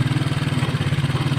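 A motorcycle engine idles high, its carburetor out of adjustment, producing a close, steady, rapid putter with a continuous low drone and even pulsing throughout.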